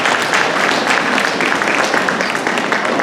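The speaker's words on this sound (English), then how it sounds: "And let's give them a round of applause, please." Audience at a middle school beginning band spring concert applauding, a steady dense patter of many hands clapping at close range.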